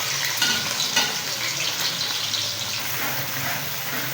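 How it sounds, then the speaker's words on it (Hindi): Onion, garlic and ginger frying in ghee give a steady, close sizzle with soft stirring clatter, with no talking. "घी मैंने 2 चम्मच ली है, इसमें प्याज, लहसुन अदरक डाल देंगे।"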